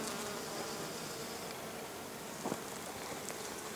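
Honeybees hum on blossoming apple trees in a soft, continuous drone, distant and faint, with an occasional closer buzz passing by; no talking.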